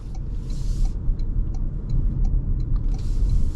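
A 2026 Toyota RAV4 in sport mode heading onto a highway, heard from inside the cabin as a steady low road and engine rumble with faint ticking clicks, no talk.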